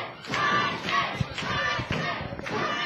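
A wrestling crowd at an NWA Atlanta event cheers and chants for a wrestler, a loud rhythmic roar with repeated pulsing swells and a few thuds, while a commentator talks over it.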